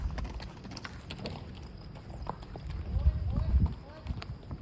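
A white horse being ridden clip-clops along, its hooves striking in a quick uneven rhythm close by, with people talking over the steps.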